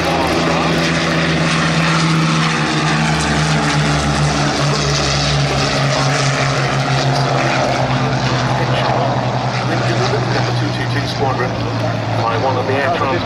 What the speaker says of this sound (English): The Hurricanes get airborne.